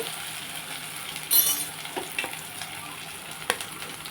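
Raw banana pieces sizzle in a hot pan while a utensil stirs them, with soft frying hiss and a few sharp clinks of metal against the pan, close and quiet, without talk.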